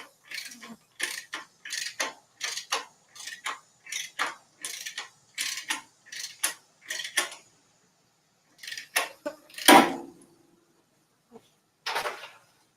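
A ratchet runs down the bolts on a Screaming Eagle extreme air flow breather, giving a close, crisp series of evenly spaced clicking strokes. After a pause come a few more strokes, a louder clunk and one last short burst.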